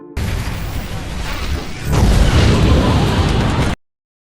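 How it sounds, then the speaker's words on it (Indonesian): A giant fireball streaks across the sky and crashes into a forest, exploding in a film scene. The roar is loud and broad, then swells into a heavier rumbling blast before cutting off abruptly. "bola api raksasa yang melintas di langit lalu jatuh di tengah hutan yang mana menyebabkan ledakan"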